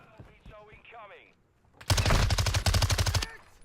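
Rapid automatic gunfire in a video game gunfight, a loud close burst of machine-gun shots lasting over a second, heard after someone talks briefly.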